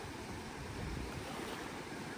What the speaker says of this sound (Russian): Море сегодня такое волнующееся